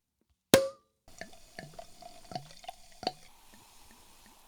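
A non-alcoholic Christmas drink, hazy and pale peachy orange, comes from a bottle: one sharp burst, then a run of soft glugging drips and splashes into a glass, close and fairly quiet.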